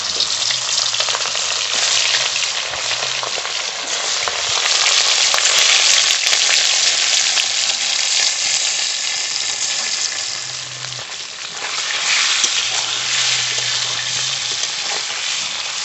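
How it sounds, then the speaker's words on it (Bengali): Glass carp fish coated with salt and turmeric frying in hot mustard oil in a kadai, a loud, steady sizzle with crackle that holds for the whole stretch and dips briefly once, with no talk. "মাছ ভাজা হতে থাকুক"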